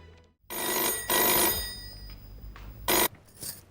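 A telephone rings indoors in a household scene, three loud electronic bursts separated by pauses, the ringing close and clear with no talk over it.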